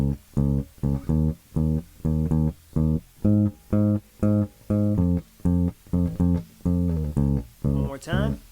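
A bass guitar plays a riff in rhythm, a steady run of short, evenly spaced plucked notes with clear gaps between them, close and alone.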